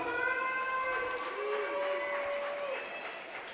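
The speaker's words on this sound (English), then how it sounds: "As you hear the shouts for Jonathan Thomas, we're right above the Mishawaka section, so you may hear some cheering here all night" A wrestling championship crowd shouts and cheers steadily in a large arena, with sustained voices and a few rising calls, and an announcer talks briefly over the noise.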